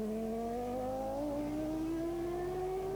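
A Formula One car at the 1994 Belgian Grand Prix, running in wet conditions, holds a steady high engine whine that climbs gradually in pitch as it accelerates past, loud and continuous without any talk.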